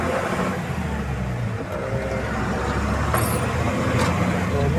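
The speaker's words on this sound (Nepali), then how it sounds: "यिनीहरूको गाडी आयो।" A vehicle rolls along a quiet market road in Nepal, a steady close engine and tyre rumble filling the whole stretch beneath faint background voices.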